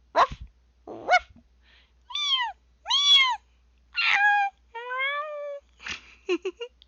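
A human voice imitating a puppy and a kitten, first a few short yapping barks, then several drawn-out, wavering meows, each a separate call with silence between, recorded close and clear.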